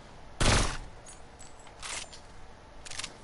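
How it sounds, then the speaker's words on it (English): A heavy sniper rifle fires in the Destiny 2 video game: one loud, sharp shot with a decaying tail, followed by two fainter, softer reports spaced about a second apart. "the heavy sniper shoots way slower than normal snipers"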